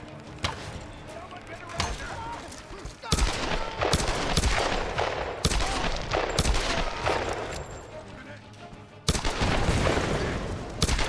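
Video game gunfire in Tomb Raider, sharp repeated shots and bursts cracking out in irregular clusters, with someone talking over the action between volleys.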